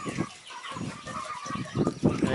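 Turkeys in a coop cluck and gobble close by in a busy, continuous chorus of overlapping calls, with louder bursts toward the end.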